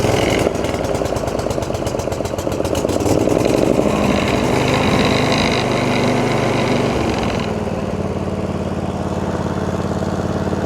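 A Kawasaki Mule utility vehicle engine runs on choke, a close, loud chugging idle with rough uneven pulsing that settles into a steadier lower rumble toward the end, no talking.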